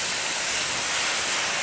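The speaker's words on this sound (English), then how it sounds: "Now they're really sizzling." A short burst of steady, bright hissing sizzle of tomatoes frying hot in a pan, close and unbroken.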